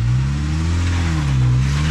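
Jeep engine on a rocky canyon trail at Cruiser Canyon, a loud, close, continuous drone that rises slightly in pitch as the vehicle creeps forward.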